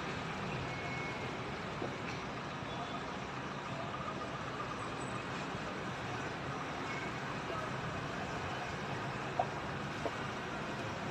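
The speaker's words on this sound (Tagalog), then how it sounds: "There are more trucks now there passing by here." Trucks rolling past on a main road, a faint, steady wash of engine and tyre noise from a distance with a couple of brief clicks, and no clear single pass standing out.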